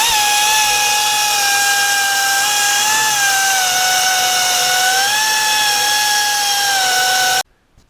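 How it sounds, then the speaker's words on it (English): Long reach die grinder sanding the inside of a segmented wood-turned sculpture, a loud steady high-pitched whine with slight pitch dips, running continuously for about seven seconds before cutting off abruptly. "They're really cheap, and they work quite well on a long reach die grinder."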